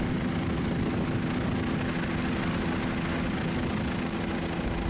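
A tour helicopter's engine and rotors during a flight over the Kilauea coastline in Hawaii, heard from inside the cabin as a steady, loud, continuous drone with no break.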